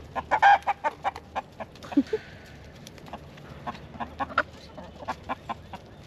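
Hens cluck steadily in short, evenly spaced bursts in an early spring garden, fairly close but soft, with an occasional louder squawk among them.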